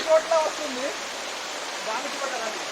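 A mini waterfall pours in a steady, soft hiss of rushing water, with a voice speaking briefly at the start.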